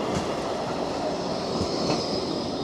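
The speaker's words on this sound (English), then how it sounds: "It's waking up now as a tram comes along the North Station." A tram rumbles past along the Blackpool promenade near North Station with a steady low roar and faint rail clatter, close by and continuous, without any voices.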